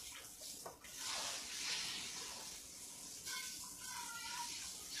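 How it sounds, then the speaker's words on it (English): Cold water pours from a kitchen tap in a steady hissing stream that continues for several seconds, moderately loud after a brief start. "I'm going to run my cold water"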